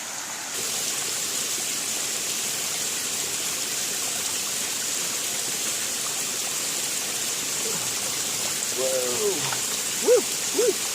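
A steady, close rush of stream water at a wooded base camp flows evenly throughout while a cup is filled, and a few brief voiced exclamations cut in near the end.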